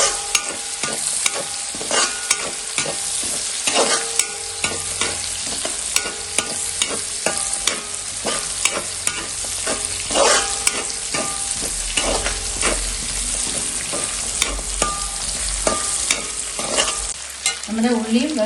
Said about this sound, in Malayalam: ഇനി ഇത് നന്നായി ഒന്ന് വഴറ്റിയെടുക്കാം.